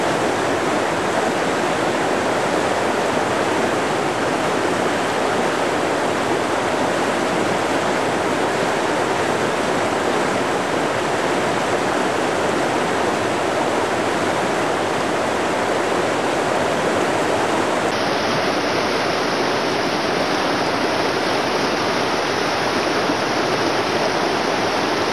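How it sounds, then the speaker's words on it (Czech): A wild mountain river, the Saranac, rushes with a strong current in autumn, producing a loud, steady, dense roar of churning water that continues unbroken throughout. "Je to taková divoká horská řeka."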